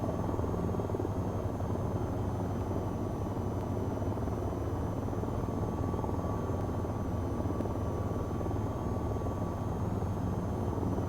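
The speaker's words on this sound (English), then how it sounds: "flying a helicopter amongst buildings is a lot more terrifying than fixed wing" An AH-94 attack helicopter flying among buildings in the VR game VTOL VR produces a steady, dense rotor and engine drone that holds constant and fairly loud from start to finish.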